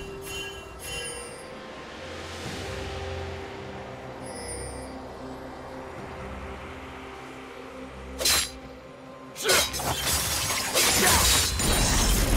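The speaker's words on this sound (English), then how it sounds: "Red team's turret has been destroyed." A turret being destroyed in a League of Legends match, with a loud shattering crash near the eight-second mark, a second burst of crumbling debris after it and a sustained crash, all over a steady in-game ambient hum.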